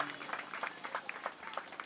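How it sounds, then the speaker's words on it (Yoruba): Applause from a crowd at a cooperative society's end-of-year anniversary, honouring an elder engineer; steady, fairly dense clapping fills the short stretch, with faint voices mixed in. "ẹ pàtẹ́wọ́ fún bàbá àtẹ́wọ́ bàbá jù bá ń lọ."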